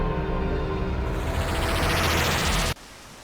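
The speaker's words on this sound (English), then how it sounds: "Rain." Steady, dense rain hiss fills the scene loudly and evenly, then cuts off abruptly near the end, leaving near silence.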